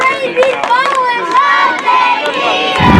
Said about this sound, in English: the crowd picking up that nothing eater chant